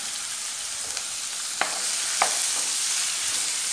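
Onions frying in oil for a rolled pizza filling, a steady close hiss of sizzling with a couple of sharp clicks of a utensil against the pan, no voices.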